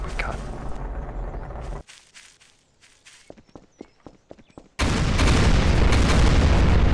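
A home-made bomb blows up in Garry's Mod with a loud, sustained broadband blast that floods the last few seconds, after a noisy opening burst and a stretch of scattered clicks and thumps.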